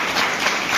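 Applause welcoming a professor in a college seminar hall, a short burst of steady dense clapping from the crowd with no voices.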